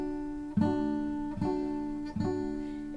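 An acoustic guitar chord strummed on only the bottom three strings, played three times in a steady rhythm with each strum ringing on close and clear.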